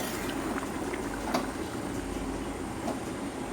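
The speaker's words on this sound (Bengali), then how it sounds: "আস্তে আস্তে আর একটু ফুটুক।" Bengali fish curry (macher jhol) with green chillies and potatoes simmers in a pot, a steady low bubbling and hiss with faint pops, close and continuous.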